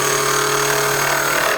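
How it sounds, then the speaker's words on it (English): A bowl gouge cuts wood on a lathe while a lidded box is turned, giving a loud, continuous whirring scrape over a steady motor hum from close by, with no talk. "Now I'm using a bowl gouge to remove a lot of wood really quickly"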